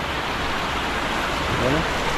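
Heavy rain pours down by an old dam in a dense, steady hiss that fills the short stretch, with faint voices underneath.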